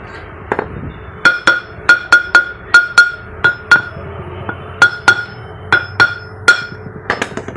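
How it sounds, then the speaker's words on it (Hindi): Black and red emery grinding stone from Grindmaster, tapped repeatedly to show its crisp ring, giving about twenty bright clinking strikes in a steady rhythm, close and loud. "तो ये वो एमरी की आवाज़ है"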